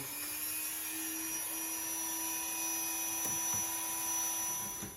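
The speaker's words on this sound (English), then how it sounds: "we'll break out the Dremel, notch that out" Dremel rotary tool notching out plastic on a custom Jeep roll cage build, a steady high-pitched whine with a sharp tonal hum running continuously, close and loud, alone with no talk.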